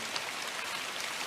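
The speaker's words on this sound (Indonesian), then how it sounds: "hujan, kita itu malah kehujanan." Steady rain falls at night in a forest, a continuous even hiss close by with no talking.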